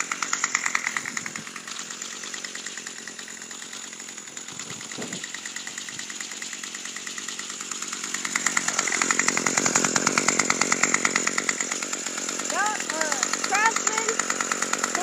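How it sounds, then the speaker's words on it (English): A cold-started Craftsman 25cc two-stroke weed whacker engine runs steadily and close by, its buzzing drone swelling louder partway through, with people talking over it. "Craftsman 25cc weed whacker. Cold start."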